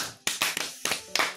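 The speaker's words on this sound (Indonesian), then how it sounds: "Kita beri tepuk tangan yang sangat panjang itu." A small handful of hand claps at a reaction session, five sharp separate claps spaced irregularly across a second and a half, close and fairly quiet, with no talk.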